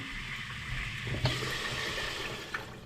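A steady sizzling hiss of food cooking in a pan, with a couple of faint clinks, close and continuous.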